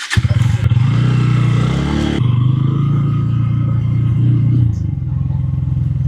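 A delivery rider's motorcycle starts off and pulls away, its engine rumbling loud and close with a rise in revs, clattering as it moves, while a voice talks over it.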